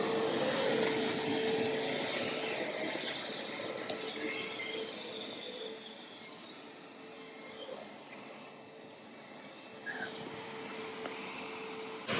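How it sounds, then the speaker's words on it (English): A Tom-Cat Carbon floor scrubber runs its vacuum steadily, a continuous broadband whirring drone with a faint tonal hum, close and constant without talk. "we can just keep driving and the vacuum will run and it'll clean up the rest of our water"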